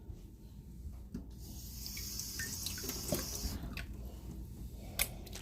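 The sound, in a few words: rinsing food under running water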